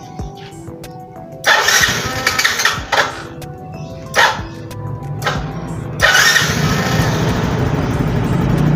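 A Yamaha Mio GT motorcycle, a 2014–2015 model, has its engine started remotely by an alarm system, with brief cranking bursts before it catches and settles into a steady close idle; no one speaks.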